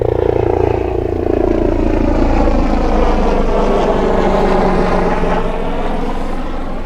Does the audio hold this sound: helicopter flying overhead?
yes